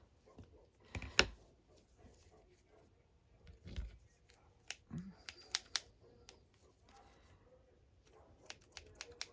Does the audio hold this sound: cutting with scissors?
yes